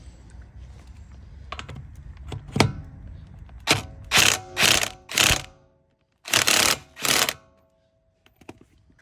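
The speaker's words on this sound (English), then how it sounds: "I'm going to loosen these up a bit with my 13/16 impact, just to make it easier when it's lifted" A 13/16 impact wrench loosens wheel lug nuts on a 2018 Ford Edge SE 2.0, firing in a series of short, loud, rattling bursts close by after a few quieter clicks and handling sounds.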